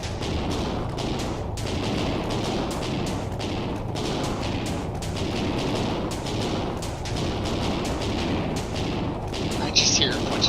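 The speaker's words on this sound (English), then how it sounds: "I just hear a bunch of gunshots." Video game gunfire in a dense, continuous stretch of distant shots and bursts, rolling and echoing under a steady low rumble, with no voices.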